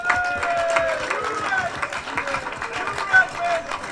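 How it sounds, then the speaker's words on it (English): A fanzone crowd at a football event applauds a guest, with brisk clapping mixed with crowd noise and voices. "Can I have a huge round of applause for Mr. Adi Moses?"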